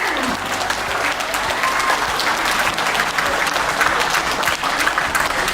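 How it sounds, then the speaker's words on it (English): Hotel staff at a happiness training session applaud themselves, a lively burst of many hands clapping close and loud, lasting about five seconds with a few voices mingling in. "Raise your hands together for 5 seconds of applause for yourself."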